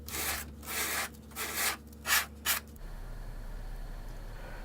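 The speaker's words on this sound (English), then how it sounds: "eventually I ended up using sandpaper to smooth it out in the final stages" Sandpaper rubs over extruded foam on an N scale model railway layout in a series of rough, scratchy strokes of uneven length, close and clear, then stops, leaving a quiet hum.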